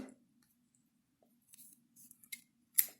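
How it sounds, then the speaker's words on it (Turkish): Scissors cut yarn while an amigurumi duck is being crocheted, with a few quiet snips and soft clicks spread over a near-silent background and one sharper, louder cut near the end. "ipimi uzun kesiyorum"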